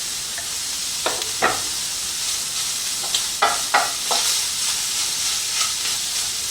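Shredded beef and garlic brown in a pan for Cuban vaca frita, giving a continuous bright sizzle with sharp scraping stirs and spatters scattered through it, close and fairly loud.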